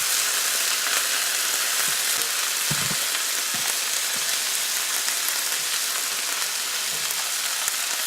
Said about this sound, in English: while the butter is melting